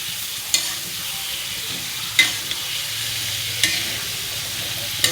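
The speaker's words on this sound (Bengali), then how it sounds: "এটা আমি শাকটা দিয়ে নিচ্ছি, এগুলো একটু ভেজে নিব।" Radish greens frying in a pan give a continuous crackling sizzle, broken by several sharp scrapes of stirring spaced a second or two apart.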